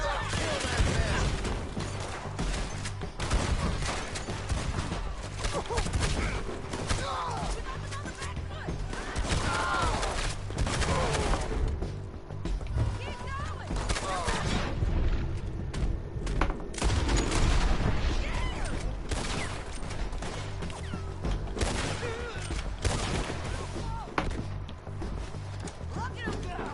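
Gunfire rings out in Red Dead Redemption 2 during a raid on a town, with a busy mix of shots, hoofbeats and shouting voices running steadily throughout.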